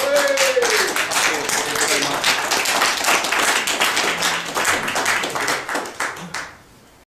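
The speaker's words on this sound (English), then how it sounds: "Give him a round of applause." A crowd claps and applauds steadily for several seconds, with a voice briefly audible early on, before the applause fades out.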